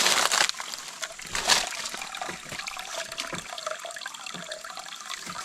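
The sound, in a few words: water flowing from a spring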